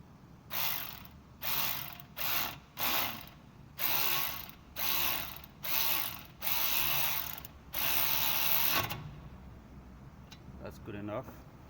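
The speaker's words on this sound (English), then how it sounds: "So we're gonna go ahead and add those bolts." A ratchet tightens the brake caliper bolts on a 2009 Saab 9-5 during a front brake pad job, clicking in about nine close bursts of rapid pawl ticks, followed by quieter mechanical handling.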